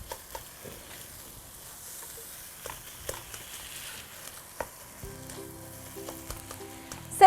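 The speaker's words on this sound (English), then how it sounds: "And I'm going to give this a little stir." Lean ground turkey and red pepper being stirred in a skillet, a faint low sizzle with scattered soft scrapes and taps of the utensil, quiet and close.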